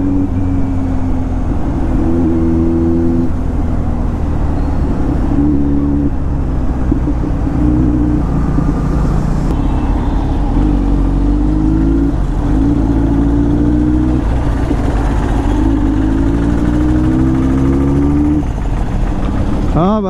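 A Kawasaki Z900 motorcycle revs loudly nearby, its exhaust rising and falling through repeated throttle blips over a steady rumble, with speech mixed in.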